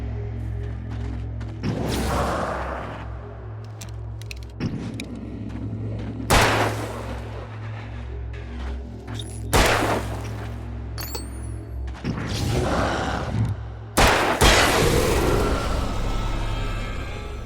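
Gunshots in the video game Alan Wake: about six loud, sharp blasts at irregular intervals, each with a brief rumbling tail, over a steady low droning background with no talking.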